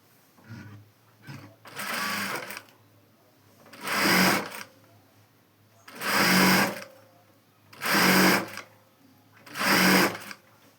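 Sewing machine stitching lining onto a long frock, running in five steady bursts of a couple of seconds each with short pauses between, close and moderately loud.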